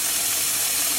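Warm tap water runs steadily into a sink while dyed acrylic yarn is rinsed, a close, even hiss and splash for just over a second.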